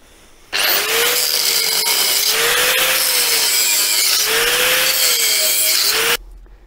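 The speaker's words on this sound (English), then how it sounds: "I need to grind off the rest of the rivets" An angle grinder cuts off rivets on an MGB rubber bumper, starting abruptly and running for about six seconds as a loud, harsh, steady grind whose pitch wavers slowly with the load before it cuts off.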